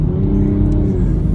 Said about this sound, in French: quel bonheur de pouvoir pousser la voiture comme ça